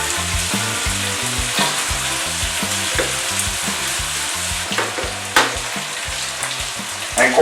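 Eggplants frying in a pan to brown lightly, a steady close sizzle with scattered crackles and a few sharper pops near the end, no voices.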